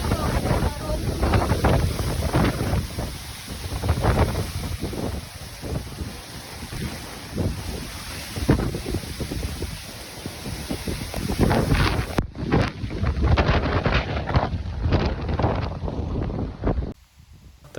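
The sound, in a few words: wind blowing at a lakeside fishing competition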